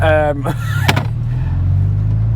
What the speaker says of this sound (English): Sounds just like a Golf.